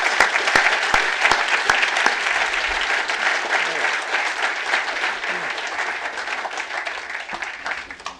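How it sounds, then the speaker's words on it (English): Audience at a real estate private equity panel gives a warm round of applause: a few crisp individual claps at the start, then dense, sustained clapping that slowly fades over about eight seconds. "why not give Rick a customary warm round of applause?"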